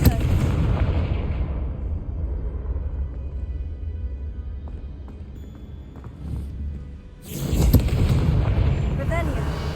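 Booming fire-spell blasts of Confringo in the Hogwarts Legacy video game, heavy rumbling explosions at the start and again near the end, with a quieter stretch of game ambience between them.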